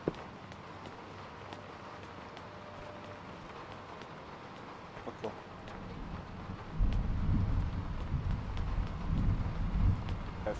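Thunder and rain in Skyrim, a steady wash of rainfall with scattered light taps, then a deep rolling rumble of thunder swelling in the last few seconds.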